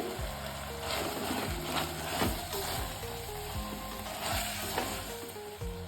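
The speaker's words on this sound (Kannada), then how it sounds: "ಕರ್ಬೇವಿನ ಸೊಪ್ಪನ್ನ ಹಾಕ್ಕೊತಿದ್ದೀನಿ" Curry leaves dropped into hot oil for a spicy red chicken masala: a steady, close sizzle and crackle with occasional stirring, continuing for the whole stretch.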